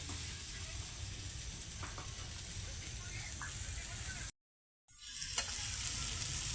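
About five hundred grams of jaggery cook with mangoes in a pan for a sweet-sour pickle, giving a steady, soft sizzle and stirring close by, cut by a brief silent gap.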